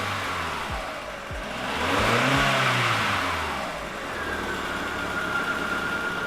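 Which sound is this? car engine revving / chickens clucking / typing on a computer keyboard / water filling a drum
car engine revving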